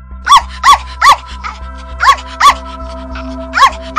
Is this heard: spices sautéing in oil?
no